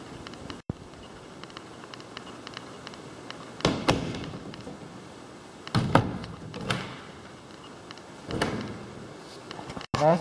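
A shower door slides and knocks shut a few times, with soft thuds and rattles spaced apart in a quiet room.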